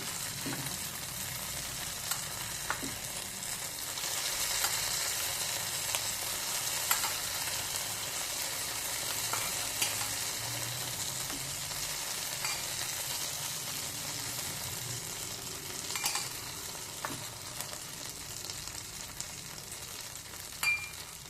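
Ingredients frying in a pan, a continuous moderate sizzle with occasional scraping clicks of stirring spread through the whole stretch, no talk.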